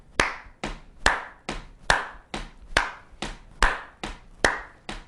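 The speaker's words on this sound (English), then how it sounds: "See if you can tap your foot on the beat right here and then clap upbeats." A steady, evenly spaced series of sharp, close percussive hits from foot taps on the beat mixed with hand claps on the upbeats, about a dozen strikes in a regular rhythm with no talking.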